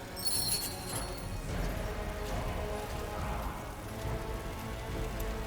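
Steady rainfall in the fantasy strategy game SpellForce 3 Reforced, a continuous dense patter with faint rumbling underneath, even and unbroken, no voices.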